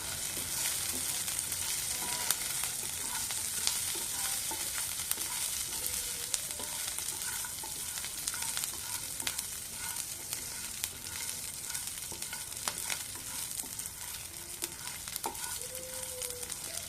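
Niger seeds frying in a pan for a green tomato chutney, a dense, steady crackling sizzle with tiny pops throughout, close and even without any talk.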